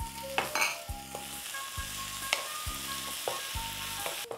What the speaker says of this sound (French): Maintenant, je vais faire cuire carottes, et courgettes ensemble.